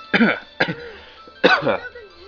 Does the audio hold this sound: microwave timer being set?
no